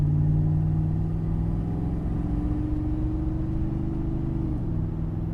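An LS 6.0 V8-swapped Jeep Cherokee XJ engine pulls steadily under load, a loud close low rumble with a rising, then dropping, harmonic drone, with no voices.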